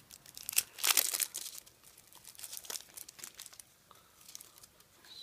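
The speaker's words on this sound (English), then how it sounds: "So let's just cut that and get this deck out." Plastic packaging of a Yu-Gi-Oh starter deck crinkles and tears as it is cut open, with a loud burst of crackling early on followed by quieter rustling and handling up close.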